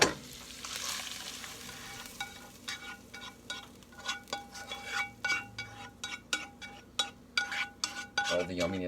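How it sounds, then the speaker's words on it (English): Onions and herbs saute in a pot for turkey stuffing, giving a gentle sizzle under repeated sharp clinks and scrapes of a utensil stirring against the pot, close and fairly quiet. "then we'll saute some onions and some herbs and stuff"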